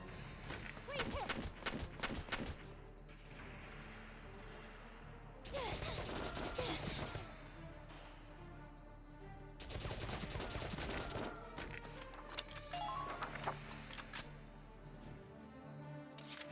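Gunfire in the tactical war game Valkyria Chronicles, bursts of rapid shots in clustered volleys separated by pauses, set among game music and effects with someone talking over parts of it.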